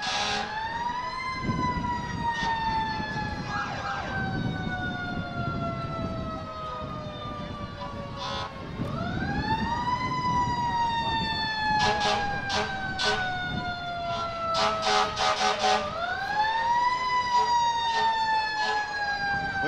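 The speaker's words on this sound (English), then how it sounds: "The sirens are blaring" Police motorcycle sirens from Wakefield Police Department units leading a Fourth of July parade, wailing in repeated rising and falling sweeps, loud and continuous, with bursts of crowd noise and clatter underneath.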